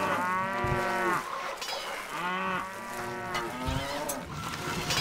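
Cattle in the video game Stronghold moo in a few long, drawn-out calls that overlap one after another, loud and close, with no talk.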